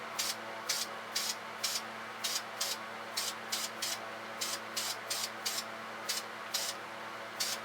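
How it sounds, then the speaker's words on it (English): Short bursts of gray aerosol spray paint on a 3D-printed V8 engine model, repeated in quick pairs and singles, hissing over a steady low hum. "And we'll spray a little bit of gray dust on this one too."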